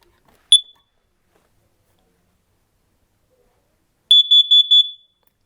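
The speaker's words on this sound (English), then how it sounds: "You will hear 4 initial beats followed by a pause and 4 beats after the pause" A carbon monoxide detector being tested gives one sharp, high electronic chirp. After a long silence comes a fast run of four loud beeps, close and clear in a quiet room.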